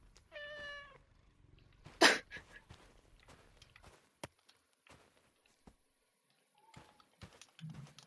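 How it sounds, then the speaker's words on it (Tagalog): A house cat gives one clear, close meow, followed by a sharp clatter and a scatter of quiet taps and footsteps in a mostly still room. "Mukhang nag-i-enjoy yung pusa sa presensya mo."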